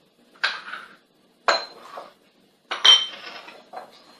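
Stuffing ingredients, including mushrooms and fried onion, are mixed in a bowl, giving three separate bursts of clinking and scraping utensil-on-bowl sounds, close and distinct, separated by short silences.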